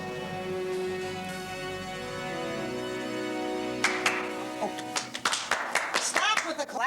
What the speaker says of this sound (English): Stop with the clapping.